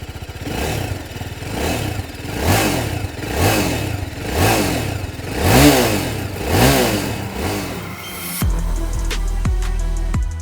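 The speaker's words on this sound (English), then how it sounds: "TVS has also raised the exhaust canister to complement the raised foot pegs and has also tweaked the exhaust note on the new RR310" A 2021 TVS Apache RR 310 motorcycle with a raised, retuned exhaust revs repeatedly in loud, close rising-and-falling blips, about seven pulses, then drops to a steady, rough idle at the end; no talking.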